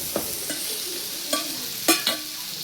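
Smashed brinjal mixture for badnekai gojju frying in a tempering pan, with a few scattered scraping stir strokes and soft sizzling bursts, near and fairly quiet, no voices.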